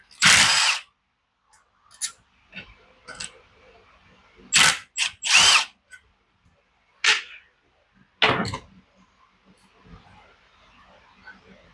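A power tool ratchets and whirs in short bursts while removing the intake manifold from an edger engine, with quiet mechanical clicks and handling noises between the close, intermittent spurts.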